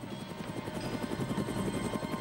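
A helicopter flying steadily overhead, its rotor producing a rapid, rhythmic thudding over a dense mechanical roar, loud and continuous throughout.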